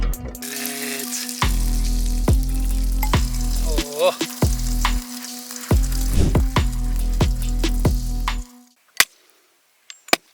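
Fatty beef rib meat for tantuni fries hard in its own juices, a loud continuous sizzle broken by repeated sharp scraping strikes, then it cuts out into near silence with a few clanks.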